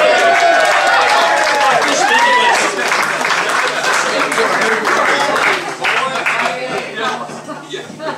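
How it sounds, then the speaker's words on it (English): Crowd applause at a rhythm band jamboree as a performer comes out, clapping mixed with cheering, chatter and a bit of laughter, loud at first and easing off toward the end, with a voice speaking briefly. "we'll give him a nice big round of applause"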